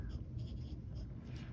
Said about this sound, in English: So let's do a quick writing sample.